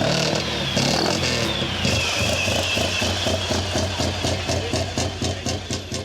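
A DB car's 750 cc two-cylinder engine runs loud and close during the Tour Auto 2009 road rally, its busy mechanical clatter settling into a pulsing, throbbing beat toward the end.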